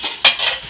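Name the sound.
washing dishes, clattering utensils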